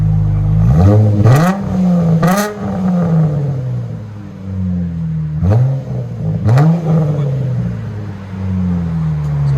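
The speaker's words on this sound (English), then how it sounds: "You see that little rasp?" A 2016 Dodge Challenger 3.6L V6 with a Flowmaster Flow FX exhaust and rear resonators removed gives sharp, deep revs in two bursts, each climbing quickly and falling back to a rumbling idle, close and loud.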